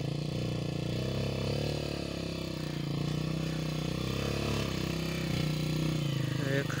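A motorcycle engine running steadily in a village, a continuous even drone with rattling texture that holds at a constant level for several seconds.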